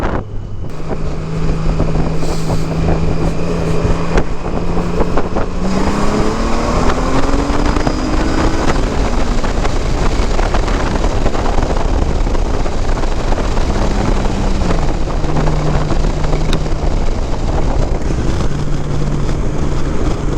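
A 2018 Honda Goldwing Tour touring motorcycle with modified stock mufflers runs steadily under heavy wind rush, its engine drone rising in pitch midway through and dropping again later, with no talking.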